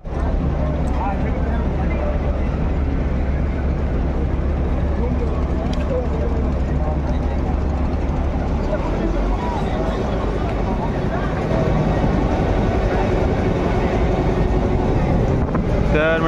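Boat ride on the Ganges along the Banaras ghats, with a steady low engine drone and rushing wind on the microphone throughout, while someone talks over the noise.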